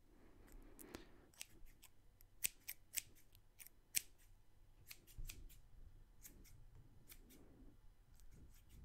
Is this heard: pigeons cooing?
no